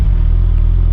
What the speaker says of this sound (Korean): 시동이 꺼진 상태인데 이 상태에서 다시 시동을 겁니다